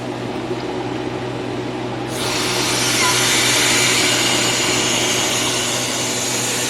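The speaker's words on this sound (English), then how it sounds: "I'm gonna go ahead and open the drain valve." A steady mechanical hum runs until a drain valve is opened about two seconds in, and a bright, loud hiss of escaping pressure then holds steadily to the end.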